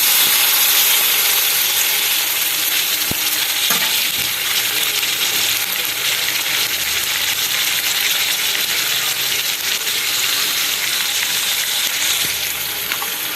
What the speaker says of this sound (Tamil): ஸோ இது நல்லா ஃப்ரை பண்ணிக்கோங்க.